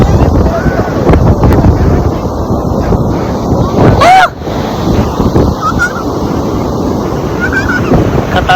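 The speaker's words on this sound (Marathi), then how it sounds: "एकदम खतरनाक लाटा" Strong sea waves crash at Umrat beach in rainy weather, a loud continuous roar of surf with wind buffeting the microphone and a brief honk-like tone midway, with voices faintly under the noise.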